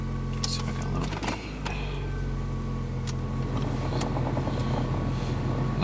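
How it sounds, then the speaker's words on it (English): A steady blower motor hum runs from a Toyota Corolla's dashboard during a door handle replacement, continuous and fairly loud, with someone talking over it and a few brief clicks and handling sounds. "The blow motor is going to make noise, I apologize."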